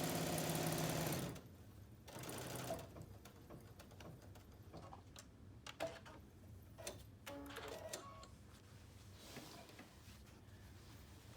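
A sewing machine runs fast and loud while stitching a quilt, then stops, leaving quiet handling clicks and light rustling.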